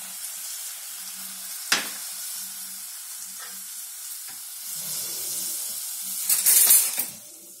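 Hibiscus powder stirred into hot coconut oil after the stove is switched off: a soft, steady sizzle with scraping stirs, a sharp clack near the start and a louder burst of crackling toward the end, no talk.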